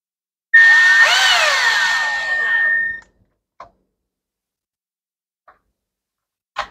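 A screw gun drives a screw into a chainsaw under repair, giving one sustained high-pitched whirring burst of about two and a half seconds that stops abruptly, followed by a few faint clicks.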